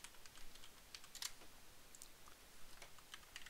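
Fast, light keystrokes on a computer keyboard while code is written for a data-analysis task, close and fairly quiet with an even patter of clicks and no talking.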